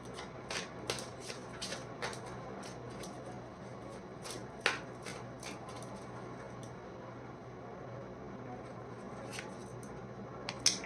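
Tarot cards shuffled close by in a quiet room, a steady series of crisp riffling snaps and flicks in quick uneven bursts, with no talking over them.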